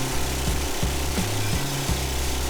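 Power tool rattling in short bursts as the top bolt backs out of a front wheel bearing on a 2017 Subaru Crosstrek, with brief pauses and shifting pitch between loud, close pulses.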